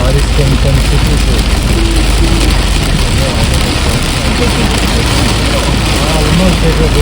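Heavy rain pounding a family car on the Hyderabad to Bangalore highway, wipers working hard: a dense, constant roar of rain and road noise that stays loud and steady throughout, with no distinct wiper strokes standing out.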